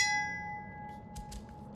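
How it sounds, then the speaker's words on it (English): A single bell strike rings out in the LOTR Gollum video game and fades over about half a second, followed by faint soft clinks and rustles. "The bell opens the gate."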